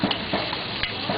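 Herbs, salt and pepper being stirred into a sauce, a steady close scraping and sizzling texture with light intermittent taps of the utensil.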